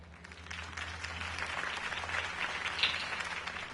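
A crowd claps after a campaign speech, a steady wash of applause that swells gradually and stays fairly soft and distant, with no one speaking over it.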